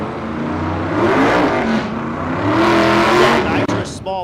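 Drag racing cars at a dragstrip, a nitrous small block Ford against a turbo LT, roaring loudly and steadily with revving engine noise throughout, under a commentator's voice.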